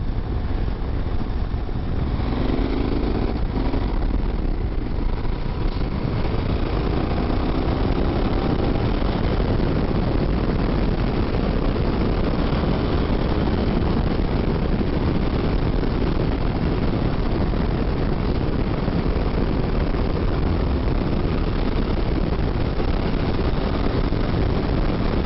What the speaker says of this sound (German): Ja, man kann echt gemütlich durch die Ortschaften tuckern.